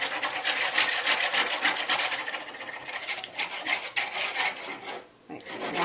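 A knitting needle scratches lines across a deli paper print, a steady close rasping and scraping that runs nearly continuously with brief pauses.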